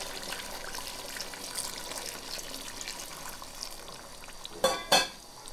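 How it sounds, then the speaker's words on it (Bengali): Hot water poured into a pan of simmering duck curry makes a steady close hiss and sizzle, ending in two louder splashing bursts, with no talk. "এবার ঢাকনা খুলে ঝোলের জন্য গরম পানি দিয়ে দিচ্ছি পরিমাণ মতো"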